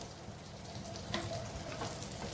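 A cabbage and besan pancake frying in oil in a pan, a continuous quiet sizzle with light spitting pops, heard close with no voices.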